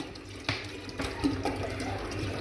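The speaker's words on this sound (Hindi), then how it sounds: "ये दूसरी बोतल पानी की डाल दी" Filtered water from a 1.5-litre bottle is poured into a container, giving a steady gurgling splash with a few louder glugs, close and continuous, without talking.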